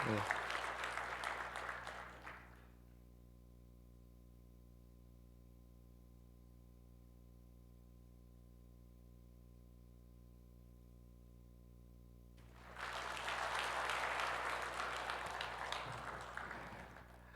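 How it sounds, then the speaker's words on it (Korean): A church congregation claps during a Korean Sunday worship service. A burst of applause fades out, then a long stretch of near-silence with a low steady hum follows before a second round of clapping swells up and continues. "우리 큰 박수 하겠습니다."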